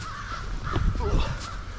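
Crows caw in the morning near a rail terminal, a few harsh calls at middle distance over constant low outdoor rumble, with brief faint sounds from a person nearby.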